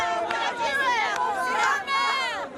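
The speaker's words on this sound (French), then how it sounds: "Une foule en liesse dans les rues de Paris, comme dans la plupart des capitales occidentales." A jubilant crowd celebrating in the streets of Paris after an American presidential election, many excited voices shouting and cheering together in a close, lively babble.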